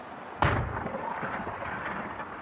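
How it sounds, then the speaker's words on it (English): A single explosive boom lands sharply and then rumbles away over the next two seconds, set against a low, steady background. No voices are heard. "The explosion doesn't make any difference."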